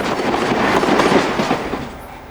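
A Chiltern Railway turbo service train running between Birmingham and London rumbles loudly on the rails, a steady close rolling clatter without speech.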